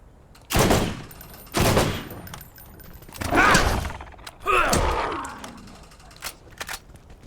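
Combat rifle gunfire in the video game Borderlands, four loud separate shots spaced about a second apart, each followed by a brief ringing tail and faint mechanical clicks.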